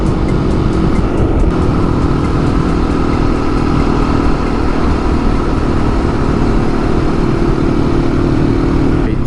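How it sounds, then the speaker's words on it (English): Steady, loud, unbroken wind roar and road noise on a motorcycle cruising at 78 mph on a highway in high winds, with helmet vents open and a wind sock over the mic. "78 miles an hour on the highway, high winds, vents on my helmet open."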